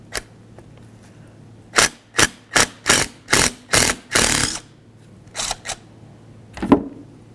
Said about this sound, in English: you're going to use a 10mm headed socket right here and go ahead and spin it right out of the caliper bracket